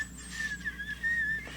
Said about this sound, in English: I was just whistling